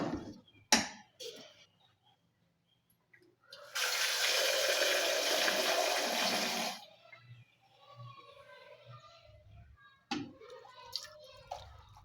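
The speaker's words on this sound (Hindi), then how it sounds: "अब हम पानी डालते हैं, इतना पानी डालें कि गोश्त अच्छी तरह गल जाए।" Water poured into a pressure cooker pot of meat for haleem, a steady rushing pour of about three seconds after a few kitchen clatters, followed by quieter bubbling and handling sounds.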